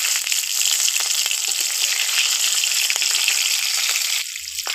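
Slit green chillies dropped into hot oil with black cumin, giving a loud, steady crackling sizzle up close that continues without pause and shifts slightly near the end.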